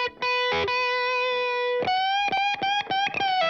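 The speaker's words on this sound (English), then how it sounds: "I've got Echo Boy Jr. just bringing the tiniest bit of roomy delay to the lead guitar." A distorted electric lead guitar plays a solo with a touch of roomy Echo Boy Jr. delay: a long sustained note, then a quick run of separate bright notes, loud and alone.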